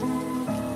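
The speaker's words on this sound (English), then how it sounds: "It is raining." Steady cartoon rain falling in a Peppa Pig scene, a continuous even patter with a faint tonal hum running under it, no talking.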